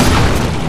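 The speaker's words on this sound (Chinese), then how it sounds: "呢个爆炸仔大家小心啦，会爆炸。" An exploding enemy blows up in the video game Resident Evil Revelations 2 as a single loud, close boom that fills the whole brief moment.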